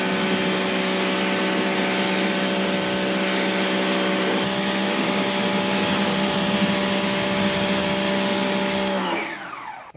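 Pressure washer rinsing a car tyre and wheel after the old coating is stripped, a loud, steady hissing spray with a droning pump that runs unbroken, then cuts off abruptly just before the end.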